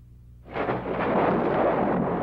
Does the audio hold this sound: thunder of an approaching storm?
yes